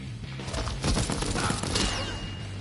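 Gunfire from a shooter game, Deathloop, lands a headshot: a short cluster of sharp, loud bursts and impacts, close and heavy, with no talking.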